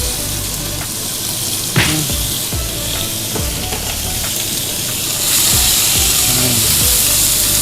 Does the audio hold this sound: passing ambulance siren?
no